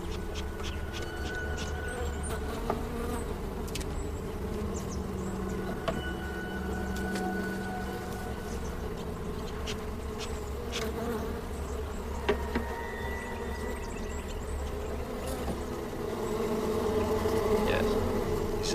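Dense swarm of bees buzzing steadily in and around a dilapidated, crowded hive, a continuous close drone with insect hum layered throughout and a slight swell near the end.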